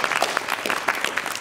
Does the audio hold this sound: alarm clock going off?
no